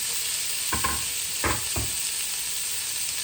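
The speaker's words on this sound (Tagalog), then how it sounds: "uunahin natin ang bawang, ang sibuyas, ang kamatis, isama na natin." Garlic, onion and tomato sauté in a pan with a steady sizzle, broken by three short scraping stirs of a utensil around the pan; no one speaks.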